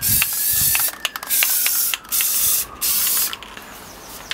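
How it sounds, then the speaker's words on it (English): Brass spray paint hisses from an aerosol can onto the underside of a steampunk model dragon in several loud, close bursts broken by short pauses. "Now I'm going to spray the underside a brass colour."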